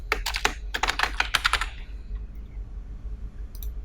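Quick bursts of close computer keyboard typing, a rapid run of clicks for a couple of seconds before it falls quiet.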